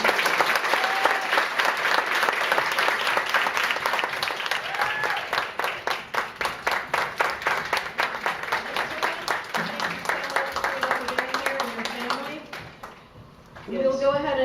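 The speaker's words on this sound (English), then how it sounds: "Let's have a big round of applause for these women." Applause at a women's leadership summit, dense clapping from a large crowd that turns into rhythmic pulses, then fades out as a voice begins speaking near the end.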